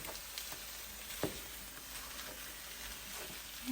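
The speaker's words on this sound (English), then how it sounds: "now it's time to just kind of fry all of this up. And those onions are browning so fast." Sausage and onions fry together in one pan, a quiet, steady sizzle close by with a few faint clinks and stirring knocks.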